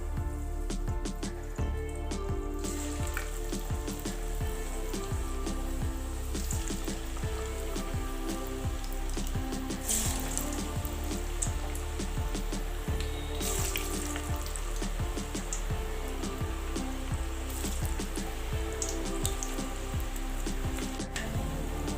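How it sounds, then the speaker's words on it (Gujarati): Cabbage tikki fritters frying in hot oil over a medium gas flame, a steady dense sizzle and crackle that carries on close and unbroken throughout, with no talking. "તો હવે ટિક્કીને તળી લઈએ."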